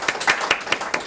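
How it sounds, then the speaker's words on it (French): Brief burst of studio audience clapping on a French TV show welcoming a guest, several close bright claps spaced unevenly over a steady wash of applause, with no talking. "sous vos applaudissements"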